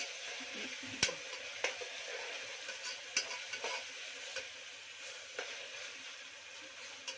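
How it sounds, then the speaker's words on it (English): Onion frying in a pan with ginger garlic paste, a soft steady sizzle broken by occasional scraping stirs of a spoon, fairly quiet and close. "Fry onion light pink color and ginger garlic paste raw smell went after."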